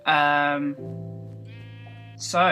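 Sheep in the video game Minecraft bleat loudly and close up, one wavering call, then a second, lower sustained bleat and a short final cry. Someone speaks nearby.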